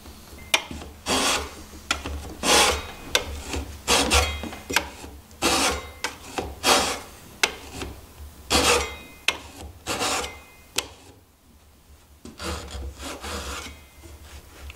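A handsaw cutting a half-lap joint in wood for a joinery stool, a close, loud rhythmic rasp of repeated strokes that slows, stops briefly near the end, then resumes more faintly.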